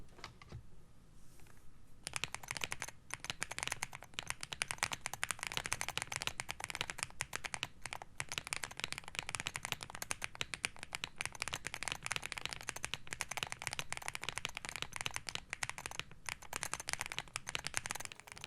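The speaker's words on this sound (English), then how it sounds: "The number row will actually scratch against the keycaps." Fast typing on a keyboard fitted with ergonomic 3D keycaps, whose number row scratches against the keycaps, a dense continuous stream of close, quiet clicks and clatter after a brief softer start, with no talk.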